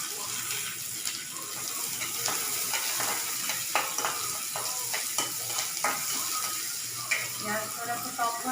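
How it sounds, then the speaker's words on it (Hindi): A large chopped onion frying in a pan for pulao, giving a steady close sizzle with scattered stirring scrapes and small clicks that run the whole time. "अब मैं इसमें डालूंगी 1 बड़ा सा कटा हुआ प्याज।"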